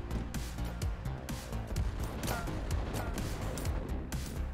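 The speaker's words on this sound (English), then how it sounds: "Airstrike time." An airstrike hits in a tank combat video game, a loud rolling series of blasts and rapid impacts with sharp repeated cracks over deep booming rumble, dense and continuous for several seconds.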